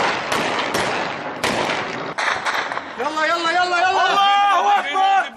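Bombs dropped by a MiG fighter jet burst in several loud, sharp blasts in quick succession inside a prison compound in Idlib, Syria, then a shouting voice over continuing rumble and crackle; chaotic and close.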